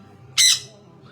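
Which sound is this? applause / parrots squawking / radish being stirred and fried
parrots squawking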